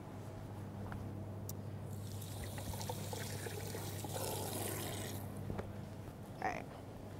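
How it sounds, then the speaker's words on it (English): Hands washed under a running kitchen tap, a faint steady stream of water with soft splashing as the hands move through it, quiet and close, with a low background hum. "Let me wash off my hands."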